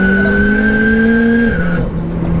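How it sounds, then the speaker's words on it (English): Loud, high screaming exhaust note from a 713bhp four-wheel-drive engine-swapped VW GTI, a sustained tonal wail holding steady then dropping in pitch as the revs shift. "like that exhaust, the way it's screaming"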